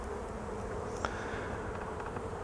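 Calm honey bees in an opened poly hive give off a steady, close, even buzzing drone that does not rise or fall.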